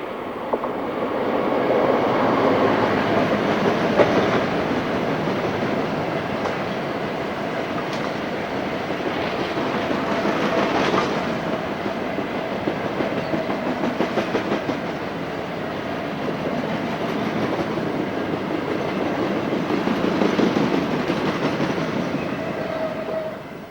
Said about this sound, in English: Working the Carlisle to Fiddler's Ferry coal train is 60011